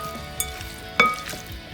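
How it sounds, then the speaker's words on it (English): A spoon stirs dressing into a side dish of cranberries and pecans, giving a couple of soft clinks and scrapes at close range with no talking. "And then our dressing, can mix in with that. Okay, stir it up."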